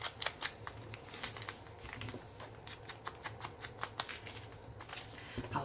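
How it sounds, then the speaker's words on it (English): Dark paper on an altered Dollar Tree composition book being handled, giving irregular crinkly rustles and crisp crackles close by, steady throughout with no voices. "Like the paper, it makes like this crinkly sound."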